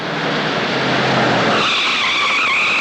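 Tires screech loudly in a skid during a car crash scene in the horror film Nightmare City, a sustained squeal that rises into a higher, harsher pitch about halfway through.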